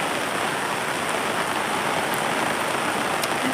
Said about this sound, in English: Look at all that rain.